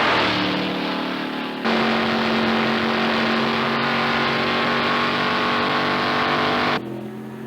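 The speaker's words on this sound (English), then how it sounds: "The Goodrich Corvette is capable of speeds of over 200 miles an hour on the Mulsanne Straight." A 1973 BF Goodrich Corvette race car at Le Mans, running at over 200 mph on the Mulsanne Straight, gives a loud, steady engine roar that holds for the whole stretch, shifting level slightly twice, with no talk.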